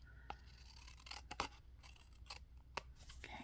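Scissors snipping excess cardstock at close range, with several quick, crisp cuts in an irregular rhythm, faint and without talk.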